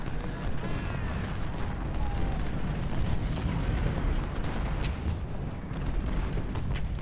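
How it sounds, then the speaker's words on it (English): Artillery fire in the Ultimate General Civil War video game, a dense continuous rumble of distant cannon booms and crackling gunfire layered through the battle noise. "Just all that artillery. Just gonna keep causing casualties."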